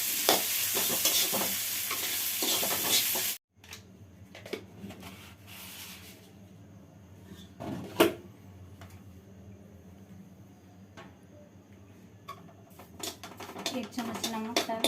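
Mashed potatoes fry with spices in a pan. A loud, dense sizzle opens and then cuts off abruptly, leaving quieter scattered scrapes and taps of stirring, with a little background murmur.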